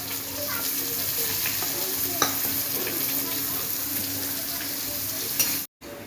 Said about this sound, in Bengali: পেঁয়াজ কুচিটা এবার ভাজবো